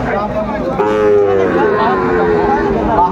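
A young Sahiwal bull calf at a busy cattle market gives a loud, drawn-out moo close by, with market chatter and voices in the background.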